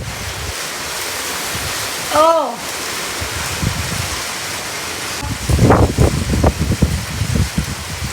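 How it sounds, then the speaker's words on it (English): Heavy rain and gusting wind during a haboob dust storm with lightning in Phoenix, Arizona, a steady close roar that swells louder in the second half, with a voice exclaiming briefly over it. "It is raining hard."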